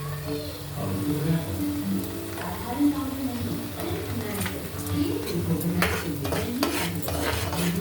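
Onion paste with turmeric fries in a pan for a gongura prawn curry, giving a steady soft sizzle with spoon stirring and scraping, while a voice talks over it.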